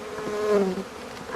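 A close, continuous droning buzz of many honey bees at an opened hive, steady and fairly loud, with a single tone rising slightly and settling back.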